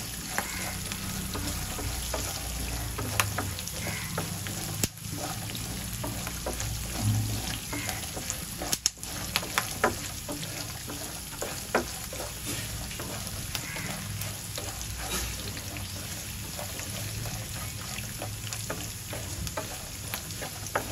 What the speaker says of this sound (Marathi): थोडे आपण शेंगदाणे थोडे लालसर झाले की हळद घालूया